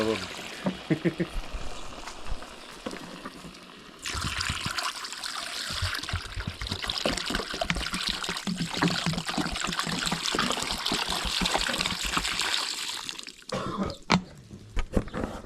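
Water poured from a container over smoked ribs in a cauldron outdoors, a steady gushing splash that starts after a few scattered clinks and drips, runs loud for several seconds, then stops, with a brief throat-clearing sound nearby.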